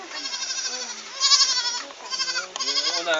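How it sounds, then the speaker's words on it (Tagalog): A goat bleats loudly and close by in several long, wavering calls, with short gaps between them. "Ganda ng kambing."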